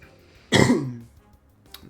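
A single rough throat clearing with a short cough, close and loud, bursting out midway and fading within half a second, followed by a faint click.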